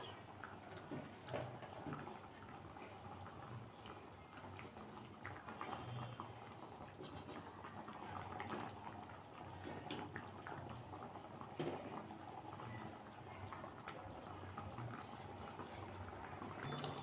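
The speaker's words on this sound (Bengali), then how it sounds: "এখন বন্ধুরা, আমার ঝোলটা ফুটে গেছে।" Fish curry broth bubbling in a pan, a faint, steady simmer of small bubbles and liquid burbling that runs evenly throughout without speech.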